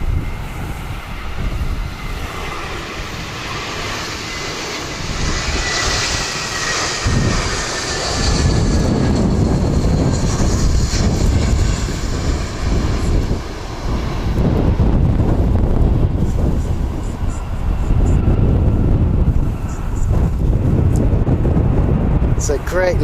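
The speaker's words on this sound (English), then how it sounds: "This is NZ604 arriving from Queenstown." Air New Zealand airliner flight NZ604 from Queenstown landing at Wellington Airport, a loud, sustained engine roar mixed with heavy wind buffeting on the microphone, with a voice talking over it at times.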